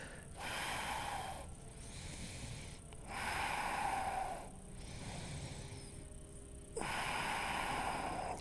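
Slow, deep breathing during a yoga class, with a few long, audible inhales and exhales that alternate in a steady rhythm, close and fairly quiet, with no talk.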